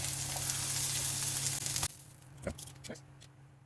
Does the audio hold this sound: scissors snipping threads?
no